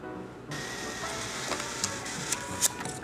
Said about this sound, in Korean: 인쇄